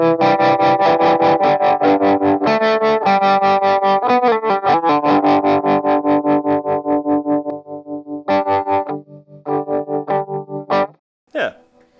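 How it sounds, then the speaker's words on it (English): An electric guitar runs through a tremolo effects pedal, loud sustained chords pulsing in a steady rapid throb, then broken phrases and a final scraped note, with no talking. "Yeah, it's a tremolo."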